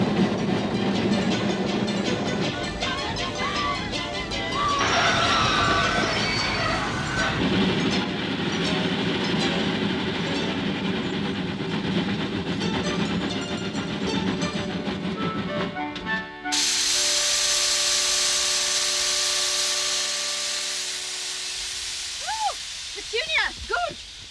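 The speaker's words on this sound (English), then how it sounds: "But the train couldn't stop." A train runs along the line in a dramatic scene, its steady rumble and clatter loud and continuous against music and effects before cutting to a brighter, hissing passage near the end.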